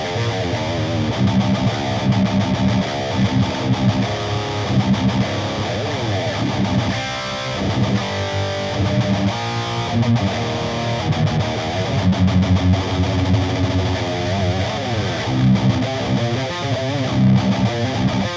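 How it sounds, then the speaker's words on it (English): An electric guitar plays a rhythm part through a BOSS GX-100 digital pedalboard with reverb and delay switched off, giving a dry, distorted, continuous chugging tone that is loud and close. "Now I can remove the reverb and delay, and now I have a rhythm sound."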